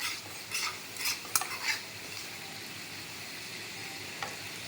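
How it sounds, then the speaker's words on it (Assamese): Turmeric and five-spice seeds sizzle in hot oil in a pan, a steady close frying hiss with a few brief stirring scrapes near the start. "এয়া মোৰ তেল গৰম হৈ গ'ল, ইয়াত মই 5 ফোৰণ দি দিলোঁ।"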